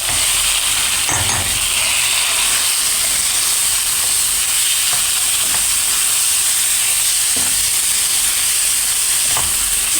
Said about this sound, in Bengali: এখন ভালোভাবে ভেজে নেব